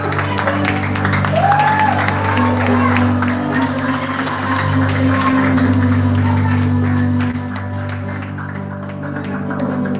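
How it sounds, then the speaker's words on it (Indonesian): A Christmas service congregation at GBI JMS Lubuk Pakam claps and cheers together, a dense wash of applause lasting the full stretch over a steady low hum, with voices mixed in. "Saya minta tepuk tangannya"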